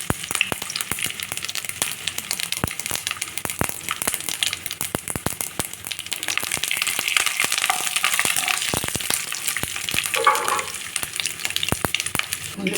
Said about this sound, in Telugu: పోపు దినుసులు వేసుకున్నాం. ఆవాలు, జీలకర్ర, పచ్చిశనగపప్పు,